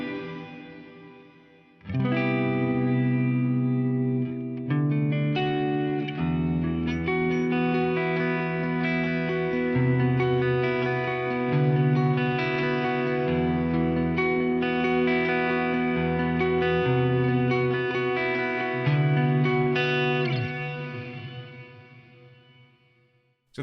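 An Eventide Blackhole reverb pedal with feedback added turns sustained guitar chords into a huge, swelling wash of reverb. The tail hangs loud and continuous for about twenty seconds before fading, with no voices.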